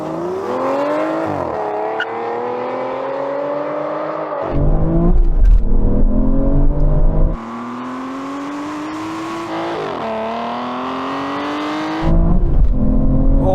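Aston Martin Valkyrie, Vanquish and V12 Vantage engines roar loudly as the cars launch in a drag race, revs climbing in long rising sweeps broken by sudden drops at each gear shift, with deep rumbling bursts in between.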